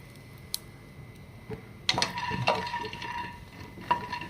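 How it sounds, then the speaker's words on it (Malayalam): Green chickpeas are stirred as they fry in a pan: a few scattered metallic clinks and scrapes of a spoon over a faint, low sizzle, heard close up with no voices. "ഞാനിവിടെ പച്ചക്കടലയാണ് ഫ്രൈ ചെയ്യുന്നത്"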